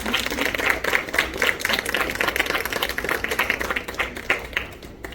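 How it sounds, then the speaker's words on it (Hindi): A group of girls claps to welcome a guest at the last day of a Kathak dance workshop at a college in Panipat, a dense, steady patter of hands that runs throughout and thins slightly toward the end. "ये हमारी जो प्यारी प्यारी बच्चियाँ हैं ये तालियां बजाकर आपका अभिनंदन करें"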